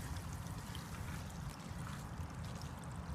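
Water drains from an RV black tank through a sewer hose, a faint steady rushing trickle that runs continuously without pause, with no voices.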